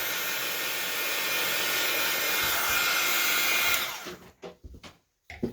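A hair dryer blows a steady, loud whoosh over acrylic paint for nearly four seconds, then shuts off. A few soft handling knocks follow near the mic in a quieter room.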